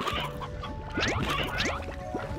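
Several chickens in the video game Slime Rancher cluck and chatter in quick, overlapping bursts, fairly close, over a low background hum.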